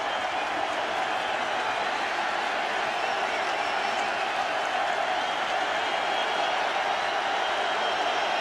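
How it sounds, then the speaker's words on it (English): Steady roar of a stadium crowd at a 2009 NFL game between the 49ers and Vikings during a Vikings defensive stand, a dense continuous wash of cheering and noise with no breaks. "The crowd noise picks up."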